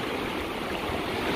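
Surf washing onto Azaiba Beach in Oman gives a steady, close, fairly loud rush of broadband water noise that fills the short stretch without pause, and no one speaks.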